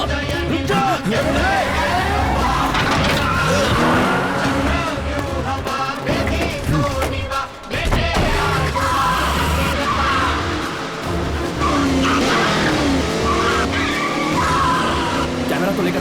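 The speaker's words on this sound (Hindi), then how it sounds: "गाड़ी स्टार्ट कर" Car revving hard and speeding away during a getaway chase, tires squealing and skidding over a loud, continuous engine roar, with shouting voices mixed in.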